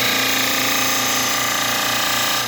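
A dental model trimmer grinds a dental stone cast with a loud, steady, continuous whir, close up and without pause, winding down only at the very end.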